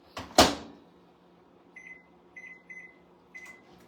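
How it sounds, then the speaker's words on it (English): A microwave oven cooking bags of peas: a sharp door thump near the start, then four short electronic beeps spaced about half a second apart over a faint hum, close and moderately loud. "So I'm gonna stick these in the microwave and get these cooked."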